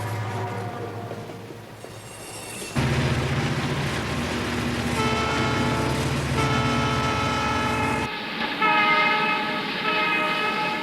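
Southern Pacific freight train hauled by five locomotives climbing a 7,000-foot pass toward Donner Pass in the Sierra Nevada: loud, steady diesel engine roar with layered horn tones, a sharp surge midway and a sustained blast near the end.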